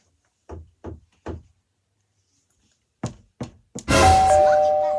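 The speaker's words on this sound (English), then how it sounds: "It's knocking back." Knocking on a door: three sharp knocks, a pause, then three more, followed at once by a loud ringing chime that sustains to the end, close and clear with no voices.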